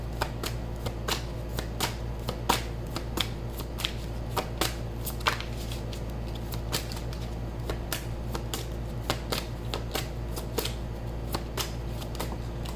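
Tarot cards being shuffled by hand close to the mic, producing a steady run of crisp flicking snaps at a quick, fairly even pace over a constant low hum.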